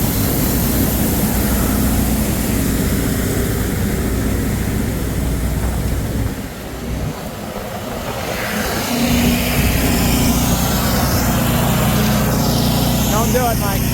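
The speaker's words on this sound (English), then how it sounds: "He's got a little 130 horsepower JCB generator in there" A 130 horsepower JCB generator powers a seed cleaner and gravity table on a farm, a loud, constant engine drone that dips briefly in the middle before resuming, with voices over it.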